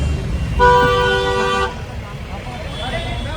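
A car horn blares in one long, loud toot amid a traffic jam on the road near Nainital, with engine rumble and road noise continuing after the horn stops.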